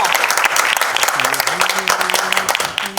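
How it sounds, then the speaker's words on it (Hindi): Loud, sustained applause from the audience at an album launch event fills the room, with a voice sounding over the clapping. "तालियां रमेश सर के लिए"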